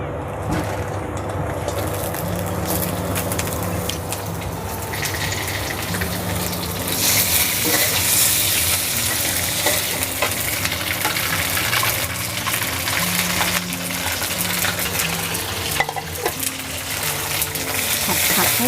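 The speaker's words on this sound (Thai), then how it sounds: "เดี๋ยวเราจะผัดผักกันค่ะ" Vegetables stir-fried in a pan for a vegetarian tofu and mixed-vegetable dish, giving a loud, steady sizzle and hiss that runs unbroken throughout with clattering from the pan.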